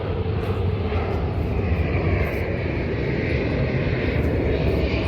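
Steady, loud roar of an airplane engine during a first flight, continuous and close throughout with no talk.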